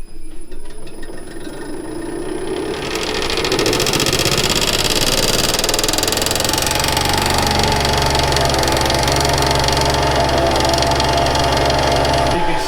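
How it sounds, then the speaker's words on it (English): A vacuum pump in a maple sap setup starts up after an oil fill, building from a low hum into a loud, steady mechanical drone with a rhythmic chugging that stays dense and continuous to the end. "I'm going to start the vacuum pump up now"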